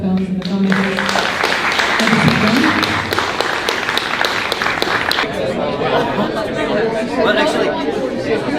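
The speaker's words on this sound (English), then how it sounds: "give a huge round of applause to the films and the filmmakers" Film festival audience in Nicosia claps and cheers for the films and filmmakers, a dense burst of applause mixed with crowd chatter that gradually fades into talking voices.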